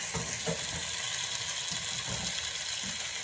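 Beef frying in oil on medium heat for Mongolian beef, giving a steady close sizzle with faint stirring clicks and no voices.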